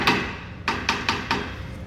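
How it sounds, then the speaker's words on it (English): A hammer taps around a nut on a threaded shaft during bearing installation on a Lancaster Model 4220 hammer mill: five sharp metallic knocks, one on its own and then four in a fairly even run, close and clear. "we're going to take a hammer and we're going to tap around the outside of the nut to free the nut up on the threads"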